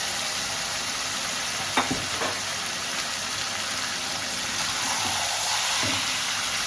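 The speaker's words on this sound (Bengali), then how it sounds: "আমি এবারে মশলা দিয়ে যে মাখিয়ে রেখেছিলাম চিকেনটাকে, সেটাকে আস্তে আস্তে ঢেলে দিলাম।" Spice-marinated chicken is poured into oil with fried onions and whole spices and stirred with a spatula for chicken kasha, producing a constant close sizzle with occasional scraping strokes.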